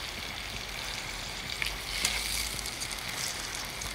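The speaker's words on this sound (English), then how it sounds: "Yeah, and then we're going to simmer this up." Chicken pieces simmering in black bean sauce give a steady, fairly quiet sizzle and bubble with no talking, holding even for the whole stretch and picking up a few brief louder crackles near the middle.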